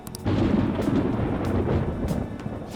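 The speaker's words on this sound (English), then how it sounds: "It sounds like it's going to rain." A deep, sustained rumble of thunder rolls in the Persona 5 Royal video game ahead of rain, starting abruptly and staying loud and steady for several seconds with no speech.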